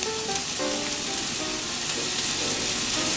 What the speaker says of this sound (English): my pan is nice and hot. I'm going to add in my onions that are enormously diced.